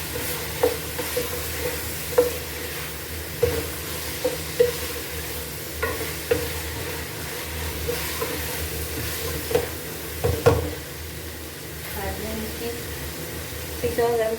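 Fried bitter gourd and green chilies are mixed into cooked keema in a pan, a low sizzle under repeated scraping and knocking strokes of a spoon, with a voice talking over the stirring.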